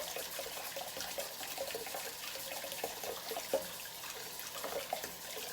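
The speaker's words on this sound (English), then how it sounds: "put it on extremely hot water, hold one end, and on both sides" Hot tap water runs steadily over a plastic cat water bowl filter cartridge being rinsed in a sink, a continuous splashing hiss with small irregular clatters, no voices.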